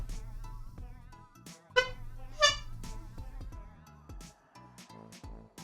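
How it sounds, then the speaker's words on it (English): Clown horn squeezed for two short, bright honks in quick succession, close and loud, over soft background music during a playthrough of the game Hiveswap Friendsim. "I'm trying to do different honks for each emotional reaction."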